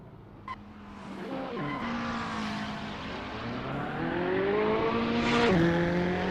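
A Ferrari 488 GT3 race car in Assetto Corsa, racing at Watkins Glen, roars loudly through a corner with rising and falling engine pitch, shifting gears and squealing its tyres as it powers out, with no talking.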